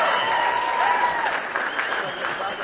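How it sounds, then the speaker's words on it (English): Crowd applause at a political victory speech, a dense sustained wash of clapping with some cheering mixed in, heard alongside talking voices. "The clapping is hurting my ears."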